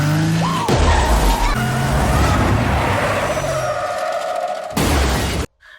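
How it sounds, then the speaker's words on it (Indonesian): A film scene where a large vehicle smashes through a gate and rams a truck, shoving it hard against a wall: loud, continuous grinding, skidding and engine roar with scraping impacts, ending in a sudden cut to near silence. "tiba-tiba sebuah kendaraan besar menerobos gerbang dan menabrak truk hingga tergeser keras ke"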